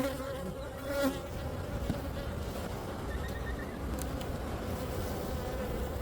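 Honey bees hum steadily during a hive inspection, a continuous close buzz of many insects with brief louder passes as individual bees fly near.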